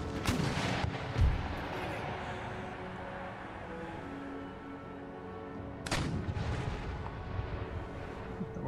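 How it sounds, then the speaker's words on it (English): Howitzers fire in the strategy game Empire Total War, two heavy booming shots several seconds apart, each a loud blast trailing off into rumble over a quiet battlefield background. "For some reason the howitzers are picking at that particular unit."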